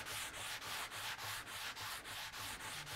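Hand sanding of black-oak-finished painted wood with a sanding block, steady rhythmic back-and-forth scrubbing strokes, about ten even passes, quiet and close with no talking.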